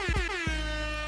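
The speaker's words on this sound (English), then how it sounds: "I got to get air horn" A loud, blaring air horn with a rich harmonic tone, sounding in short bursts at first and then holding as one long continuous blast.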